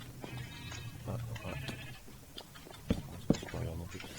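Sheep bleat repeatedly in a video game while wool is being sheared, with several short bleats scattered across a steady low background hum, at moderate loudness.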